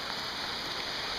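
Light rain falls steadily during a storm in eastern Connecticut, a soft, even hiss of drops with no voices.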